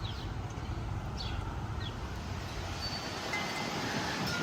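Steady outdoor wind rumbles and buffets a microphone on a blustery day, with faint bird chirps now and then above the constant low roar.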